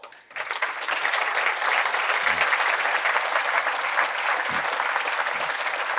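A dense, steady round of applause from a conference crowd for a panel, starting abruptly and holding strong and even throughout with no talking.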